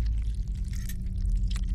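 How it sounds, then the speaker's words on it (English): Gasoline poured out in the horror game Oxide Room 104, a steady gushing splash over a low rumbling background, heard briefly and alone. "Pour some gas on it, possibly."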